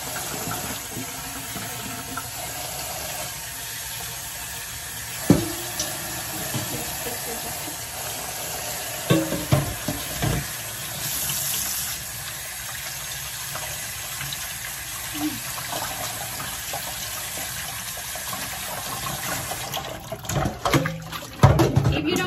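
Cold water poured onto freshly cooked tapioca pearls in a kitchen, a steady wet rushing and hissing pour that continues throughout, with occasional clinks and faint voices in the background.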